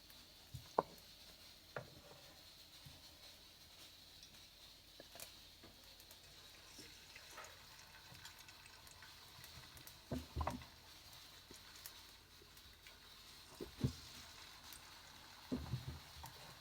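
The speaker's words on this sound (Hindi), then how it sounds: "अब ये डीप फ्राई हो रहे हैं।" Egg and cornflour coated pieces deep frying in hot oil, giving a faint, steady sizzling hiss with scattered small pops and crackles throughout.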